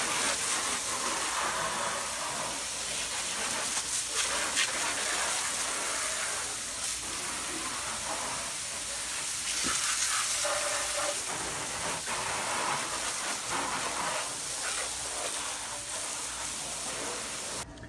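A Honda Civic gets washed with water and dish soap, giving a continuous broad hiss of spraying water with some splashing, close by and with no speech.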